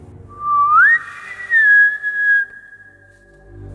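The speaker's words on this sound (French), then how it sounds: "De nouveau, elle entendit un sifflement, mais non pas dans la même direction que précédemment" An eerie whistle in a horror story setting, a single pure tone that bends upward and then holds steady, broken into a few clear phrases before it fades, heard alone over a faint low background.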